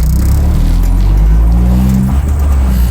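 A Honda CR-X del Sol with a B16A VTEC engine pulling under load, heard from inside the cabin as a loud, steady, droning engine note with a slightly rising pitch.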